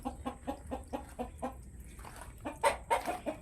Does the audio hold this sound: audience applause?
no